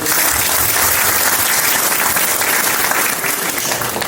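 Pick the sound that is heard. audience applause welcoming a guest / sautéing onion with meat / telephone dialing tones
audience applause welcoming a guest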